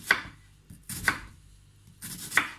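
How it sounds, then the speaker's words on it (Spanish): A knife chopping a washed onion into small pieces on a cutting board: three crisp, close cuts spaced about a second apart, with quiet kitchen background between them. "Ya tenemos aquí la cebolla lavada y la vamos a ir picando también pequeñita."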